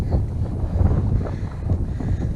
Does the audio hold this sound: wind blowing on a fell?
yes